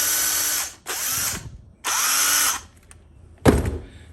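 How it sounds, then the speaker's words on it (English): A cordless drill runs in three bursts of whirring motor noise, each about half a second to a second, separated by pauses, followed by a sharp clunk or rattle near the end; close and loud with no talking. "This is the drill that I got for free yesterday."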